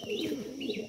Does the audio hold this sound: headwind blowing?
no